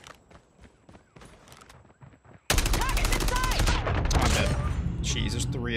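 Assault rifle fire in Call of Duty Mobile, an AK117 in ranked play: quieter scattered shots and game noise first, then a loud sustained burst of rapid automatic fire with overlapping effects.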